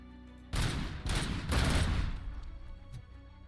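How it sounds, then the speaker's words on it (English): Explosions in a video game: several heavy, booming blasts in quick succession, loud and rumbling, then a sustained roar that slowly tails off. "listening for the explosions"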